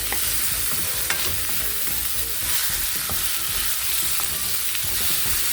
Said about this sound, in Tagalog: i-add natin guys ang ating talong at radish